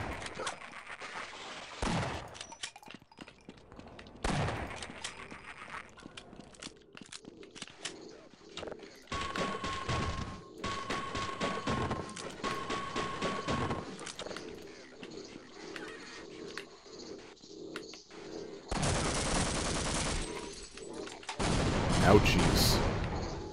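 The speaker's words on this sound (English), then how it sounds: "Shotgun blast got me good there" Shotgun blasts and gunfire ring out in bursts during Half-Life gameplay, loud sharp cracks scattered across a busy game soundscape with a voice talking over parts of it.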